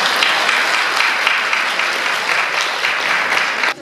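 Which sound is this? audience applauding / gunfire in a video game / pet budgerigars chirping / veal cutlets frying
audience applauding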